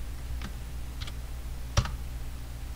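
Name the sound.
pressing Enter on a computer keyboard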